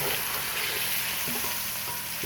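A rib eye steak sears in an iron pan with a steady, close, loud sizzle and crackle that fills the whole moment, and no one talks over it.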